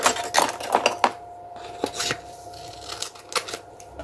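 Scissors cut paper during a vintage ATC card craft project, a series of crisp snips and rustles close to the microphone, busier at the start and then scattered, with a faint steady hum beneath.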